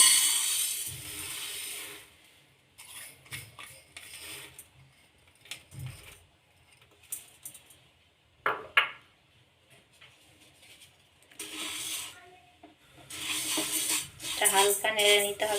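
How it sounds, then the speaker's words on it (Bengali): Moong dal stirred in a kadai, heard as scattered short scraping and clattering bursts of a utensil against the metal pan, separated by quiet gaps. "এবার ওর মধ্যে মুগের ডালগুলো একটু নাড়াচাড়া করে নিতে হবে হালকা।"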